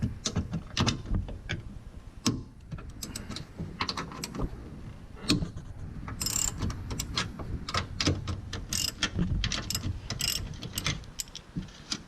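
Ratchet clicking repeatedly while cracking loose 14mm bolts on a Dodge Caliber SRT-4 during intermediate shaft removal, with close, rapid bursts of pawl clicks and metallic clanks throughout, no talking.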